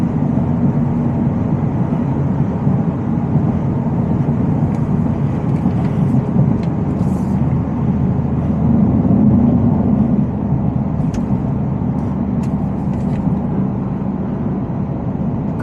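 A 785 hp Shelby Super Snake truck rumbles steadily while driving, its engine and road noise forming a continuous, loud drone with a few faint higher clicks and rattles, and no talking.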